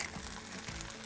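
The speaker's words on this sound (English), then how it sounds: "so I'm just going to make this egg, put it in this hot pan here" An egg fries over easy in a hot pan, giving a soft, steady sizzle that stays faint and continuous throughout, with no voices.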